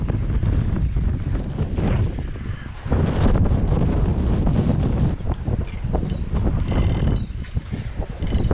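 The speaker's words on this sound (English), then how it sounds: "And very windy." Strong, cold wind buffets the microphone while shark fishing on a shore, a loud, constant roaring rush with gusts, plus occasional light clinks of gear.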